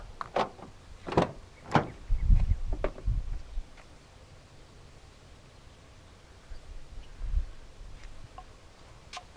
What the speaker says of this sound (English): To lock the truck, press the chrome button on any of the front door handles.